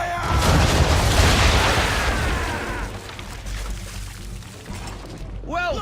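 A video game ship in Assassin's Creed 3 fires a broadside during target practice, its cannons booming in a dense rolling volley that fades into rumbling splashes, with a brief shout from a voice near the end.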